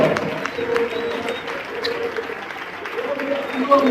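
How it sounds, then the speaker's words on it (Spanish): A church congregation applauds in praise during a service, a steady patter of clapping with voices mixed in throughout. "Y la iglesia da un aplauso al Señor."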